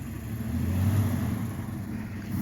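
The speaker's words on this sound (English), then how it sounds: "that's why the garbage truck is here" An older garbage truck on a cold winter day gives off a steady, low engine rumble that swells a little and then eases back. It sounds fairly close, and no one speaks over it.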